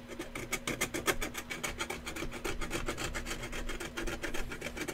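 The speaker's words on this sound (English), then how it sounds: "it's easier with the file instead of sandpaper" Metal file rasping paint off a handle in quick, even back-and-forth strokes, a dense rhythmic scraping close by with no talking over it.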